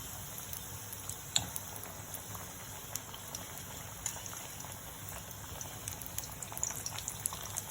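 Veg fish-shaped samosas frying in oil over a very low gas flame, a faint, continuous soft bubbling and crackle with scattered small pops.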